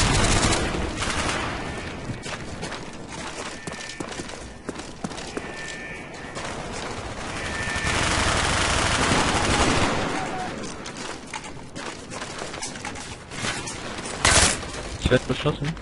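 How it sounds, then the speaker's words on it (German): Gunfire rattles in an online PvP video game in bursts and volleys of varying loudness, with a sustained loud stretch in the middle. Players talk over the shooting. "Ich werd beschossen."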